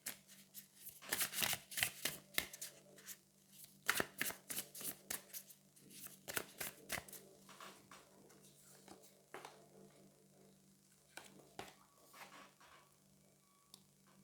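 Tarot cards shuffled and drawn in a quiet room, a long run of crisp riffling bursts and soft slaps that cluster densely early on, then thin into scattered flicks and taps, with no talking.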